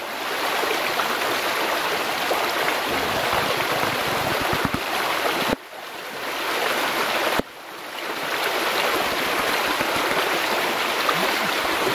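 A small river streams steadily nearby during fishing, a loud continuous broadband rush of flowing water that briefly dips twice before resuming.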